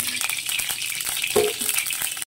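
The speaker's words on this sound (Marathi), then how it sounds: "कढई गरमच आहे, आपल्याला तेल घालून घ्यायचं आहे" Oil pours into a hot kadhai and sets off a steady bright sizzling hiss that lasts about two seconds, with a brief clink partway through and no voices.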